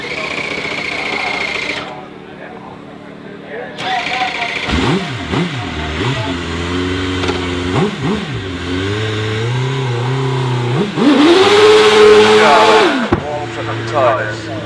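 A hillclimb race car at Prescott revs hard in repeated bursts, its engine pitch swooping up and down while the tyres warm, loud and close under a commentator's voice.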